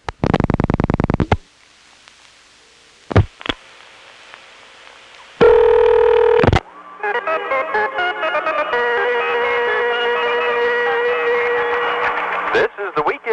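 A 1977 telephone call to a 391 number: bursts of dialing tones and ringing on the line alternate with short pauses, followed by a steady tonal ring signal playing alone for several seconds.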